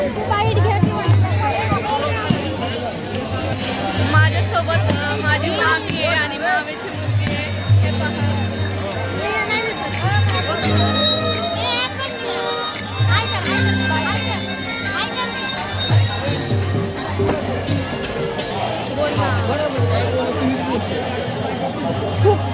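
A dense crowd of warkari devotees at a palkhi procession, with constant close babble of many voices and sustained droning tones running underneath the whole time.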